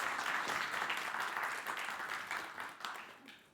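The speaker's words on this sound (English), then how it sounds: "Please give him a round of applause." Applause from a conference audience for a speaker, a dense spread of hand claps that is strong at first and then gradually fades away over a few seconds.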